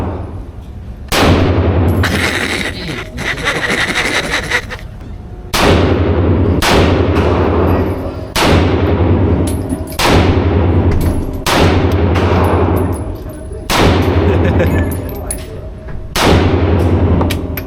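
A Draco firearm is fired in a string of loud, close, sharp blasts spaced a second or two apart, about ten in all, each with a ringing echo tail over a constant low rumble.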